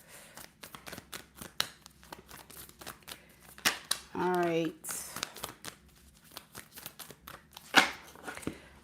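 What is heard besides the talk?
shuffling a new deck of cards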